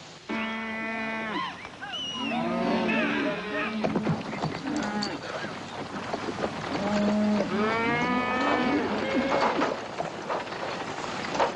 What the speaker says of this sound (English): Cattle will be glad to get a drink.